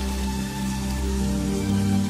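Steady rain falls on surfaces in a movie scene, a continuous close patter with no breaks and no voices over it.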